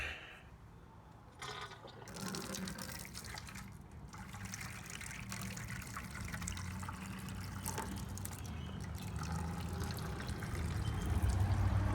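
Wort is poured from a bucket into a hot liquor tank on an all-grain, three-vessel, single-tier home brewing rig, a steady splashing gush that builds slightly louder toward the end.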